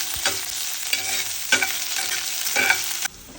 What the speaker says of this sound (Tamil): சின்ன வெங்காயத்தை நல்லா வதக்கணும்